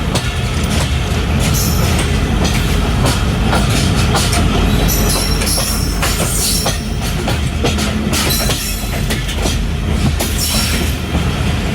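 Sir Syed Express 36DN, a Pakistani passenger train on the Rawalpindi to Karachi route near Kotri Junction, runs on the rails with a loud, steady close-up rumble and wheel clatter and no voices.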